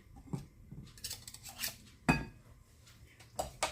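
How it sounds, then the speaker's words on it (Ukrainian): A spoon stirring eggs with sugar in a bowl: irregular close clinks and scrapes of metal against the bowl, a few sharper knocks between quieter gaps. "Розмішуємо яйця з цукром, тому що цукор має властивість сідати на дно"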